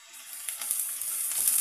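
Golden-brown onions and green chilies fry in a pan with a bright, continuous hiss that builds slightly over the short stretch, close and steady with no talking.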